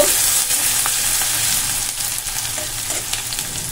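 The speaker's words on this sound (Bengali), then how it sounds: "তো দেখো ভালো করে আমি নাড়াচাড়া করে নেব।" Food frying in a pan over a medium gas flame and being stirred, a loud, close, continuous sizzle with scraping stirs, no voices.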